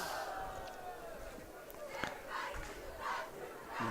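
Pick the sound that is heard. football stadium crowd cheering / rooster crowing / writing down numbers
football stadium crowd cheering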